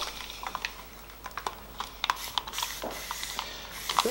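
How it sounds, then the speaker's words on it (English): A spray bottle mists water onto a watercolour painting being made outdoors, giving several short, soft hissing squirts with gaps between them, close by and fairly quiet. "spray"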